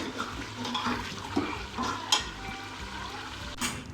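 Ground beef keema masala roasting in a pan for biryani, with a steady low sizzle under repeated scraping strokes of a spoon against the metal, fairly close and moderately loud.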